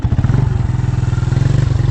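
A motorbike engine thumps near a river crossing, with a close, loud, rapid and regular pulsing beat that runs steadily on its own.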